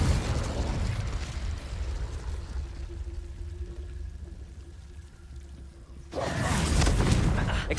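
The Confringo explosive spell cast in Hogwarts Legacy, a loud burst that sinks into a lingering rumble, then a second powerful blast near the end, with no speech.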